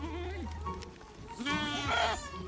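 Sheep on a farm bleat close by, a couple of wavering, nasal calls that rise in the second half over a low background hum.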